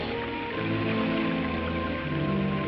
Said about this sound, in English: And rain tests.